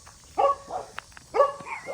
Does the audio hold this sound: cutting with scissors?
no